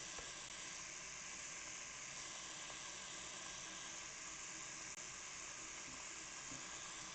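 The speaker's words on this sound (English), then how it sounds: "I'm gonna fill about half this pot" Steady broadband rush of tap water running into a pot, filling it about halfway, continuous and even throughout with no talking.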